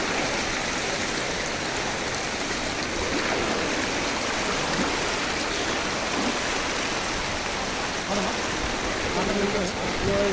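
Rainwater in Kamareddy rushes heavily as a dense, continuous broadband roar of flowing water and rain, steady and close throughout, with faint voices murmuring underneath.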